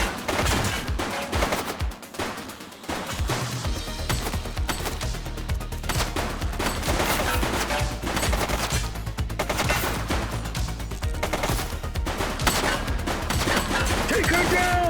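Gunfire in The Precinct video game rattles almost nonstop in dense, loud bursts. It layers over a low engine or ambient rumble and barely lets up.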